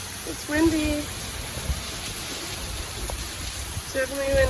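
Rain and wind from a storm in Vermont make a steady, broad wash of noise throughout, while a person talks briefly over it near the start and end.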